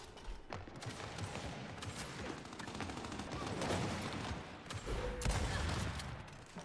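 Rapid gunfire in the video game Gears 5, with dense, continuous shooting and bursts across a noisy battle soundscape, moderately loud and steady throughout.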